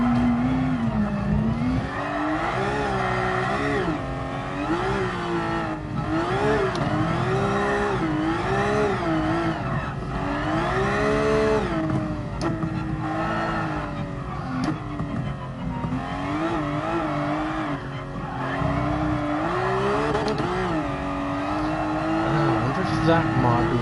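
Race car drifting around the Red Bull Ring in GT Sport: a continuous, loud, wavering engine note that rises and falls as the revs change through the drifts, with someone talking over it.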